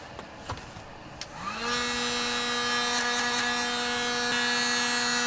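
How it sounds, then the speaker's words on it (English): Heat gun switched on to warm a hot tub heater pipe, motor whine spinning up after a few clicks and then blowing steadily and loudly close by. "Keep your heat gun a couple inches away from the tube"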